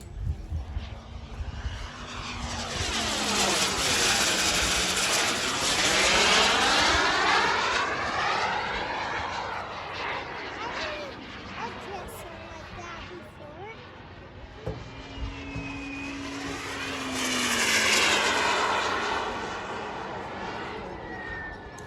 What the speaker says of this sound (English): we'll get probably about a 7-minute flight out of this jet